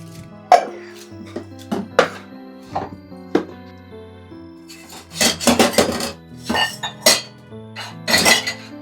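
Dishes, pots and pans clatter and clink in a kitchen sink as they are washed, sharp metallic knocks and ringing tones coming irregularly and close by, growing busier toward the end, with no talk.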